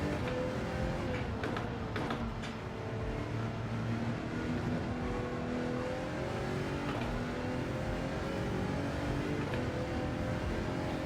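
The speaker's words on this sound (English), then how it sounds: "I like how this car sounds" A race car engine in Gran Turismo 7 at the Nürburgring, revving and shifting through gears in a sustained loud drone with rising and falling pitch sweeps.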